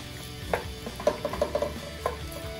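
Garlic sauteing in olive oil while a utensil stirs it in the pan, with soft scraping and light tapping knocks over a low, steady sizzle.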